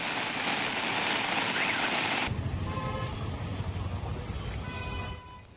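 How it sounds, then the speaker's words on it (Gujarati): Heavy monsoon rain pours down on Surat, a dense steady hiss that stays loud throughout and shifts to a lower, rougher wash partway through before easing at the very end. "ભયાનક વરસાદ સુરતની અંદર આપ જોઈ રહ્યા છો।"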